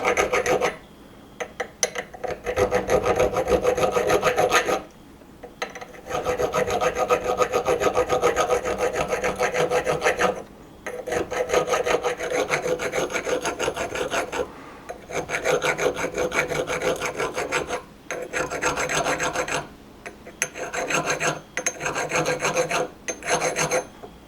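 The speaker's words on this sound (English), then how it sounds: "So I've got a thread file. It appears to be 16 threads per inch, so I'll go ahead and clean up all those threads." A thread file rasping over the threads of a Jeep Dana 30 front axle on a 1976 CJ-5, long bursts of rhythmic back-and-forth filing separated by short pauses, close and steady.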